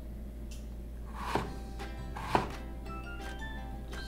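A knife slicing vegetables very thin on a cutting board for Korean potato and vegetable fries, two distinct firm chops over a quiet kitchen background.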